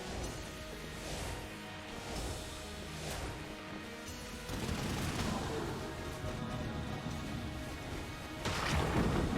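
Gunfire from a weak gun in the twin-stick shooter Enter the Gungeon, bursts of shots recurring through the clip amid busy game sound, with a louder volley near the end.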